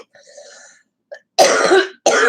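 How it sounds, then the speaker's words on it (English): A faint throaty sound, then two loud, close coughs in quick succession, the second cut short. "Seems to be, I have a little cough today."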